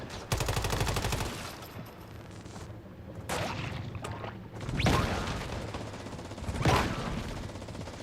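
Gunfire aimed at a tamed bear in the survival shooter Once Human, a ragged fusillade of bursts that swells and fades over several seconds alongside broadband battle noise, with no talking.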